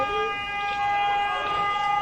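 A jammed car horn blares a continuous, unbroken tone on a street during a fire in a French neighbourhood on the eve of Bastille Day, steady and fairly loud throughout.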